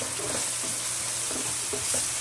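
Ground mustard greens paste fries and sizzles in a hot pan while being stirred, a steady close hiss with soft scraping strokes of the spoon.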